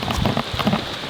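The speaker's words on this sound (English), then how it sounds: "I'll wait for the rain to stop" Steady rain falls close by, a dense, loud patter on surfaces throughout, with no voices.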